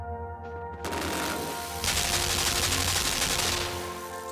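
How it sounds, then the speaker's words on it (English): A turret in the game Limbo spinning up and then firing nonstop: a rising whir gives way to a loud, dense, continuous rattle of rapid shots that holds steady before easing off at the end, with an ambient hum beneath. "Spins up, shoots, and it doesn't stop shooting."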